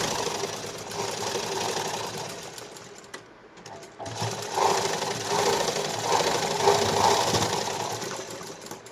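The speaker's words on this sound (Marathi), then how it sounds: "अगोदर एक शिलाई मारून घ्यायची" A sewing machine stitching the lining of a blouse runs with a steady, close mechanical whir and rapid needle clatter, pausing briefly partway through before resuming at a slightly louder, even pace.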